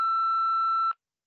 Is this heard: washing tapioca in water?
no